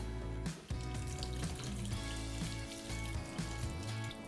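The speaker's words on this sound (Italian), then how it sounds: "Una volta marinati sciacquiamo gli sgombri." Running tap water rinsing marinated mackerel fillets in a kitchen sink, a steady splashing flow with a few clinks and handling sounds, close and fairly quiet, no talking.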